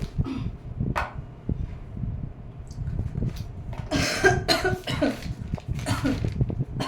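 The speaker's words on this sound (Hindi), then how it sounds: "खांसी आ रही है बहुत ज्यादा" Repeated coughing fits, close and harsh, several bursts spread across the stretch with some soft rustling in between.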